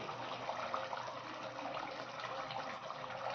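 Pomfret fish dropped into a pot of curry at a full boil in a home kitchen, heard as a steady watery bubbling and splashing roar that fills the clip, close and fairly loud, with no one speaking.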